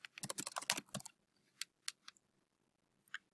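Computer keyboard typing a note into a report in Adaptive Insights software: a quick, close burst of rapid keystrokes, then a few isolated clicks spaced apart, with no talking.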